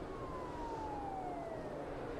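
A police siren in a trailer for the video game The Day Before wails with a slowly falling pitch over a constant rumble of traffic, no voices present.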